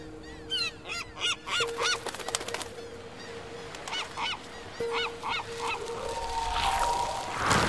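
Birds in the Concrete Genie video game honk in a rapid series of repeated calls, fairly close, trailing off into a swelling whoosh of wind or wing noise at the end.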